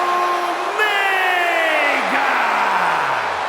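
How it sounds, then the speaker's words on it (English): Video game crowd in WWE MyRise cheers and whoops for a wrestler's entrance, a loud sustained roar with rising and falling yells, heard on its own. "It's great to hear the crowd give this superstar the reception he deserves"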